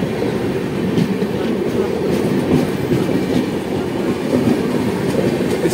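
The Shatabdi Express, a New Delhi to Amritsar train, rumbles past close by with a continuous heavy roar of wheels on rails and a faint, irregular clickety-clack, loud and unbroken throughout.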